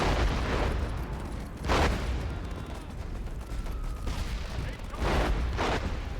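Artillery strike explosions in the WWII strategy video game WARFARE Legacy: two heavy booms burst out a few seconds apart over a dull rumbling battlefield background, with someone talking between them.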